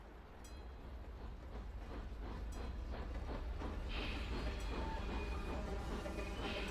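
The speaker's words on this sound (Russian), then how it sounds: "Сейчас поезд проследует." A train passes in the Hidden & Dangerous 2 video game. A low rumble swells steadily louder, with rhythmic rail clatter and a brief metallic screech as it nears.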